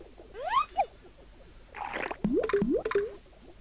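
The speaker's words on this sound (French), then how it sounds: "on va commencer par l'essence de Floriane qu'on met dans le mélangeur" Cartoonish sound effects from the Goblins 3 video game as an essence goes into a mixer: gliding whistle-like squeaks, a burst of bubbly gurgling, then a series of short rising chirps, moderately loud.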